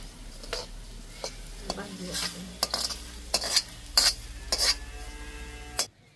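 Spices such as turmeric root being fried and dry-roasted in a pan for homemade red chilli powder: repeated sharp metal scrapes and clinks of a utensil over a soft sizzle, close and fairly loud, with no voices.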